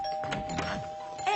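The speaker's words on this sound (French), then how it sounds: "arrêtez avec cette sonnette" A house doorbell in a French film rings over and over with a steady, sustained electronic tone, fairly close and clear for the whole brief moment.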